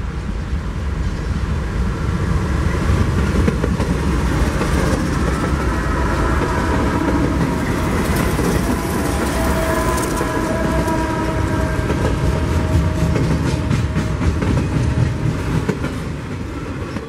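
A train bound for Los Angeles Union Station rumbles past close by in Southern California, with loud continuous wheel roar and rattling cars. The sound stays steady throughout, and no one speaks.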